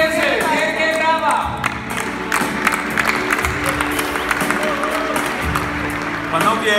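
An audience at a leaders' event applauds loudly and continuously, with cheers, whoops and shouts rising through the clapping while voices carry over the crowd.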